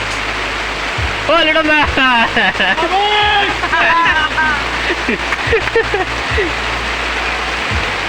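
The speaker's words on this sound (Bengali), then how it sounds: "কি বৃষ্টি, একে বলে উড়িষ্যার বৃষ্টি" Heavy rain pours down in a steady, dense hiss that fills the whole stretch, with voices talking loudly over the downpour.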